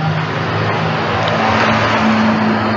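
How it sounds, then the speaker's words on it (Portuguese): Car traffic on a city street in the early evening, a steady broadband roar of passing vehicles held at an even level throughout, with no talk over it. "É barulho de carro."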